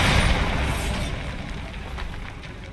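A Bombarda spell blast in the video game Hogwarts Legacy, a broad booming explosion with crackling debris that starts loud and slowly fades over a few seconds.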